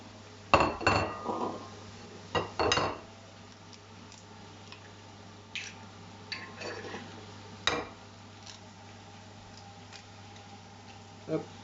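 Eggs being cracked in a kitchen, with sharp shell taps and light clinks against dishes arriving in a few separate bursts, close and crisp over a quiet background hum.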